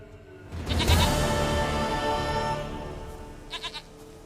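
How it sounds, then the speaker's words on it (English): Goat bleating in The Witcher 3, a loud, drawn-out bleat followed by a short burst of quick, stuttering bleats near the end. "Goat of mine, dearest, sweetest goat."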